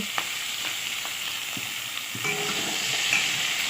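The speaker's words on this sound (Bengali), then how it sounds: "এখন আলুগুলোকে একটু নুন আর হলুদ দিয়ে ভালো করে লাল লাল করে ভেজে নেব।" Potato pieces fry with salt and turmeric in hot oil, a close, continuous crackling sizzle with light stirring scrapes, swelling slightly louder toward the end.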